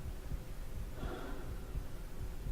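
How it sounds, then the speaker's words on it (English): Heavy breathing in the Half-Life game sounds as slow, close, rhythmic breaths with a low throbbing undertone, one breath swelling louder partway through. "Heavy breathing."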